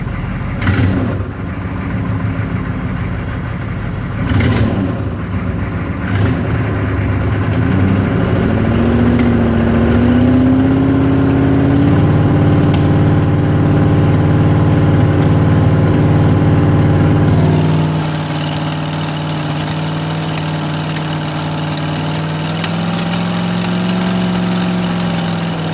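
A 6.5 turbo diesel engine idles steadily and loud, with a dense rumbling drone that shifts pitch slightly partway through as the idle settles, no talking over it.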